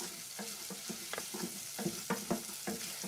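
Onions frying in a pan, a steady close sizzle with soft scraping and stirring taps, no voices.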